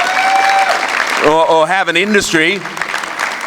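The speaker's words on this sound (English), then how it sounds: "I think they deserve a round of applause" Applause for the Hume descendants at an evening gathering runs beneath someone talking into a microphone, with the clapping audible at the start and continuing faintly under his voice.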